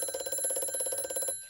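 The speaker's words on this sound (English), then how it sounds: "Alarm ring, ring, ring, ring," An alarm clock rings in a rapid, continuous metallic trill that is fairly faint, then stops abruptly just before the end, heard alone with no voices.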